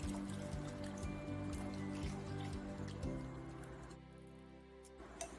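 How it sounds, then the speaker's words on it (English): Flour and milk mixture poured slowly into a pot of cheddar broccoli soup, a quiet close trickle and drip of liquid with a soft squishing settle, faint and without speech. "It's time to add the flour and milk mixture."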